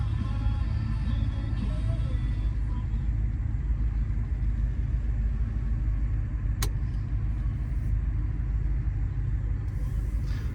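A 1992 Ford F-250 XLT with a 460 big block V8 idles steadily, a constant deep rumble throughout, heard from close by, with one sharp click partway through.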